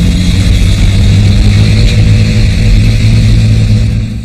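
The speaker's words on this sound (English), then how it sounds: "I could see the driver had it in reverse and was gunning the engine." Heavy tank engine revving hard in reverse in a wartime setting, a loud, steady low growl sustained close up, easing slightly at the end, with no voices.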